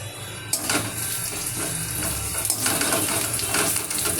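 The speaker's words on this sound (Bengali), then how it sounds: "দেখুন, আর আমি এই মশলাটা ভাজছি।" Spice masala for a mushroom fry frying in a pan: a sudden broad hiss starts after a brief quiet moment and then carries on steadily with faint stirring scrapes.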